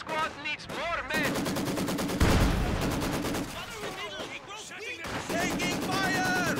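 Rapid gunfire and machine-gun bursts in a Company of Heroes 2 campaign battle against enemy infantry, loud and continuous with booming impacts, mixed with in-game voices calling out.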